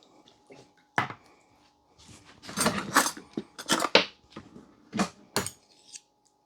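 A spoon scraping and clinking against a cooking pan while short ribs are prepared, in several sharp separate strokes with short pauses between them.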